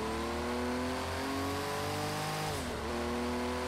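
A Porsche engine in a racing video game revs and holds a rising tone before briefly dropping and picking back up, close and continuous.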